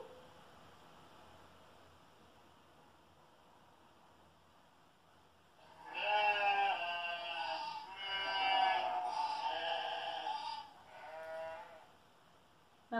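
A flock of sheep bleats, several overlapping wavering calls rising together into a loud chorus for a few seconds, then tapering to fainter bleats against a quiet background.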